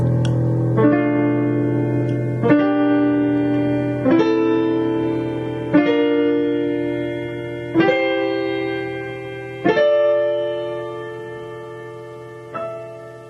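Six sustained piano chords struck one after another at a slow, even pace, each ringing out and overlapping as it fades into the next.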